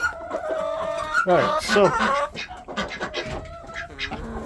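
Hens in a backyard coop cluck and squawk loudly up close, with bursts of rapid calls; a voice speaks briefly over them.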